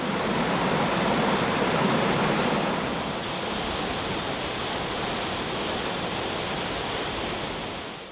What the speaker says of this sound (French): la cascade de Caqueta